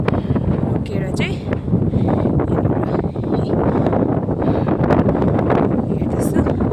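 Wind gusts across an open roadside viewpoint near the Pulbazar bridge, producing steady rough buffeting against the microphone for the whole stretch, loud and close, with brief rustling under it.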